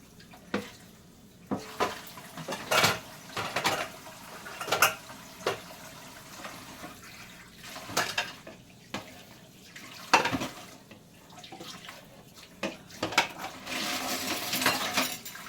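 Dishes rinsed under a strong running tap, with water splashing and hissing into the sink amid scattered clinks and knocks of crockery, irregular bursts close at hand.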